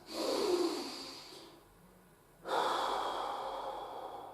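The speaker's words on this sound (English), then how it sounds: "So we're going to do 3 or 4 of those nice deep belly breaths." Two slow, deep belly breaths during a stress relief exercise, each a long airy inhale or exhale fading gradually, close and soft, separated by a brief quiet pause.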